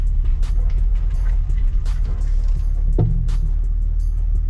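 A spring popping on a Saab 9-3 TurboX gives a series of sharp, close clicks and pops, one louder snap near the middle, over a low steady rumble.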